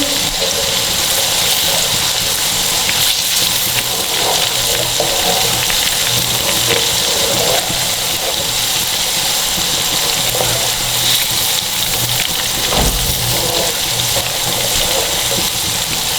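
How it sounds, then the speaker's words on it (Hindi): Ginger garlic paste fries in a pan with a loud, continuous sizzle and hiss that fills the whole stretch without pause. "अदरक और लहसुन की पेस्ट को इसके अंदर थोड़ा सा हम पिंक करेंगे।"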